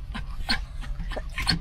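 Puppies yip and whimper in a few short, close bursts over a low rumbling background, with faint voices nearby.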